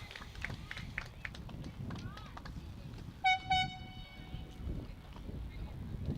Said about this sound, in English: someone brought an air horn.